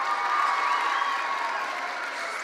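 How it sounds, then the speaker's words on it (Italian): An audience in a studio applauds and cheers for a girl named Maya, a dense, steady wash of clapping heard at a moderate distance, gradually easing off. "Maya, un applauso fortissimo a Maya!"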